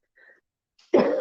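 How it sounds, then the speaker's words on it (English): A short, loud single cough up close, preceded by faint small sounds in a quiet old house. "excuse me, I still have a little cough."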